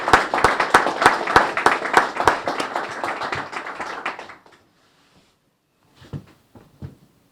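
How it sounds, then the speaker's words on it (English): A small audience at a 100th-birthday gathering claps together for about four seconds, then the applause cuts out, leaving near silence with a few scattered taps. "they should have an applause from all of us"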